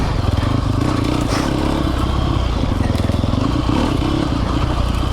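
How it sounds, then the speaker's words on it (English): A 2020 Sherco 300 SEF Factory four-stroke enduro motorcycle rides along and shifts up a gear, its engine a loud continuous rapid thumping drone with rattling and scraping from the bike and terrain. "Grab another gear to let it roll a little faster so I don't have to clutch."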